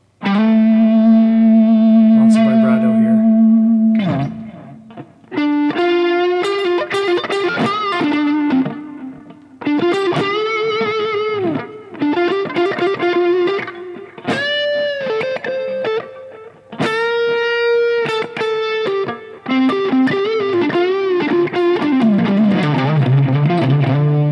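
Electric guitar solo on the neck pickup through an overdrive and an added stomp box, with sustained bending phrases over keyboard chords, loud and continuous with short breaks.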